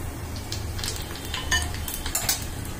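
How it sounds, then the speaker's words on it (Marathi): Cumin seeds frying and crackling in a small wok, a soft steady sizzle with light clinks of a spoon against the metal, alone with no talk. "आपण छोट्या कढईत हे सगळं आता तळून घ्यायचं आहे भाजून"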